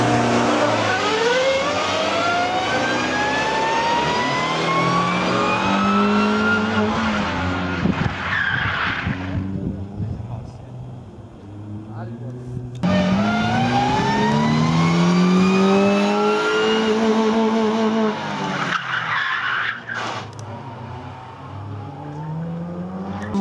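Two runs of a car without ABS spinning through a 180-degree police turn at a racing school exam, each with the engine revving and climbing and tires skidding and squealing loudly, ending in a fading rumble.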